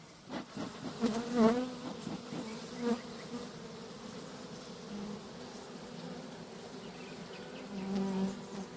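Honeybees hum and buzz around a hive, close by, with individual bees swooping past the microphone and a steady drone underneath.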